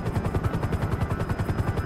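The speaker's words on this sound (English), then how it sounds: "Climb, helicopter, climb!" A helicopter flies in GTA with a fast rhythmic rotor chop, a steady pulsing thud about ten beats per second and a whining hum above it. It is loud and close, and no one speaks.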